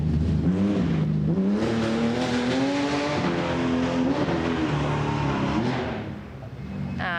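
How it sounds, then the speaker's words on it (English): A Porsche rally car works through a slippery forest rally stage at the Festival of Speed, its engine loud and close as the revs climb and fall in a continuous pull, then fade near the end. "some nice control there as that Almeris Porsche makes its way through"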